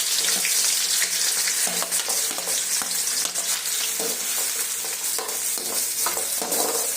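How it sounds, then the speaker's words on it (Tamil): Onions sizzle and crackle steadily in hot oil, with intermittent scraping and stirring sounds, close up and continuous. "இப்போ நறுக்கி வச்சுருக்கிற நாலு மீடியம் சைஸ் வெங்காயத்தை அதில் போட்டு நல்லா வதக்கிக்கலாம்"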